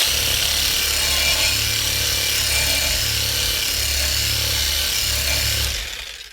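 AL-KO HS 2015 18 V cordless reciprocating saw running with a loud, steady buzzing drone and rubbing friction, the motor then slowing and winding down at the end.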